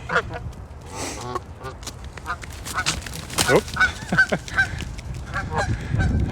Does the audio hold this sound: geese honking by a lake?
yes